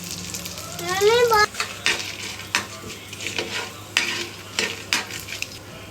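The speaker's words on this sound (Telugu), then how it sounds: "కూడా ఈ విధంగా ఫ్రై చేసేసుకోవాలి. లో ఫ్లేమ్లో పెట్టి వేయించుకోవాలి." Ginger and dried red chillies fry over a low flame in a pan, giving a steady close sizzle broken by sharp stirring scrapes and clinks of a utensil against the metal.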